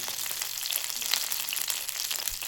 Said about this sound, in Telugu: సో వీటితో పాటు నేను కొత్తిమీర, పుదీనా కూడా వేసేస్తున్నా.